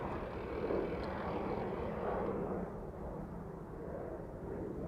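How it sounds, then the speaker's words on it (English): A distant jet departing Amsterdam Schiphol Airport gives off a steady low rumbling roar that fades slightly over several seconds. "Departure taking place from center."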